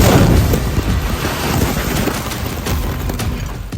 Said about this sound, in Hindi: इजरायली मिसाइल का धमाका कितना जबरदस्त है